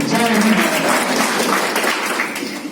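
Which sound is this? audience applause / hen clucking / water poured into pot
audience applause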